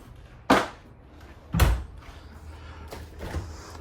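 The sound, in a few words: RV refrigerator door opened after removing travel lock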